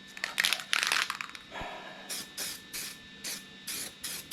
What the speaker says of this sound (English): Put some weld-through primer on it.